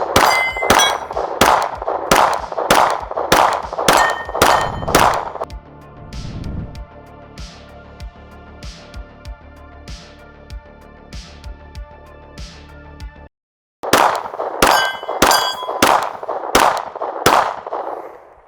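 A Glock 47 MOS pistol fires a fast, even string of shots at a steel target, each crack followed by a ringing metallic clang, then a lingering ring and a pause before another quick volley, loud and close.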